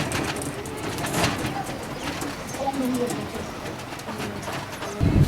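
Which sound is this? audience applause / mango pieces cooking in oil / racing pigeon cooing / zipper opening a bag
racing pigeon cooing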